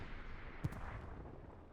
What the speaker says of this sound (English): Sherman's firing across here